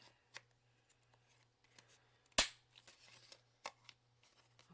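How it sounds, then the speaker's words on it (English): A handheld corner rounder punch clipping the corners off paper tags in a crafting session, giving sharp isolated clicks. One is loud and close, the others are softer and irregularly spaced, over a quiet steady hum. "I'm going to use my corner rounder. I'm going to round all the corners."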